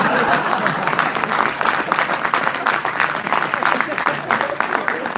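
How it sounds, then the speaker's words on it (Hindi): Audience at a Hindi poetry recital claps in a busy, rapid patter of many hands, fairly close and steady, with a voice talking over the applause. "2-3 लोग ताली बजा रहे हैं"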